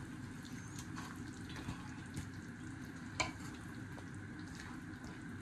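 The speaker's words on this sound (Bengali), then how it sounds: "নেড়ে দিচ্ছি। মিক্স করে দিচ্ছি একটু।" Food frying in a pan on a home stove while being stirred and mixed, a steady low sizzle with occasional scraping and light clinks of the utensil, close and continuous without speech.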